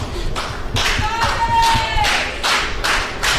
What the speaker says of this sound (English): And the crowd, once again, firmly behind Matt Vandagriff